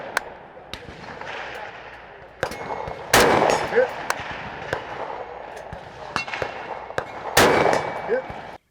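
Gunfire at the PSA Gathering, an outdoor shooting event, with sharp cracks spaced a second or so apart, a few louder nearby shots among fainter distant ones, over a low background murmur.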